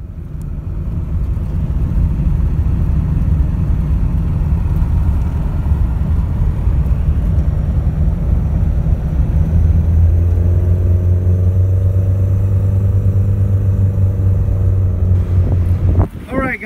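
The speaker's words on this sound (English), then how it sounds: "So let's go take it on the test drive." A red 1984 Porsche 944 on a test drive, heard as a loud, constant low engine rumble with wind and road noise; a steadier humming tone joins partway through and holds until just before the end.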